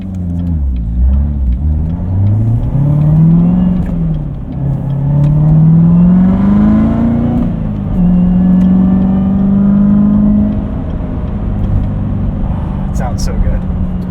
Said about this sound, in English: I do hear the supercharger a little bit more now.